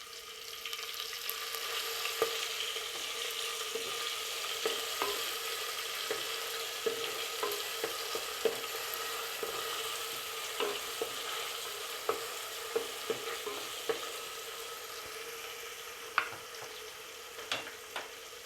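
Green chili paste sizzling in a hot pan for green rice, a continuous hiss of frying with frequent sharp clicks and scrapes of a spoon stirring, close and alone without speech.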